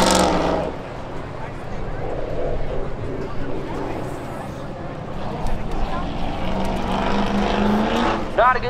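Race cars on a lap at Hudson Speedway during spectator drag racing, a steady engine drone heard at a distance under constant announcer commentary.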